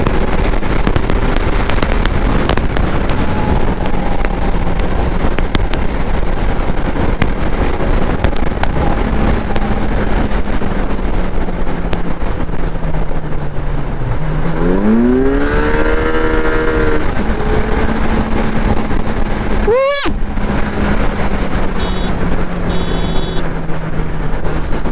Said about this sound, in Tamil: பைக் சும்மா பிச்சு வளருது